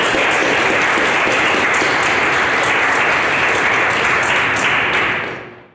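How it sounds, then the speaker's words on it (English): Lecture-hall audience at an architecture talk claps in a dense, sustained round of applause, steady and fairly close, ending abruptly without any speech. "And you guys should applaud them."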